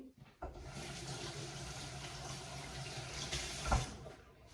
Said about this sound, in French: Je me rince vite fait les mains.